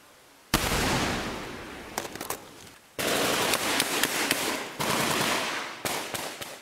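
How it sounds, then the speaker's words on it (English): Small arms fire crackles in bursts during a Taliban ambush on American troops in a valley, loud sustained volleys of rapid shots with brief gaps, close and harsh. "the Taliban begins an ambush with small arms fire and rocket-propelled grenades"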